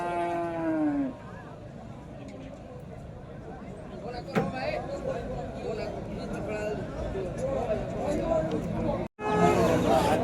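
Cattle at a livestock market in Vaniyambadi: a long, loud moo opens the scene and another returns at the end, with a busy murmur of voices and people talking throughout.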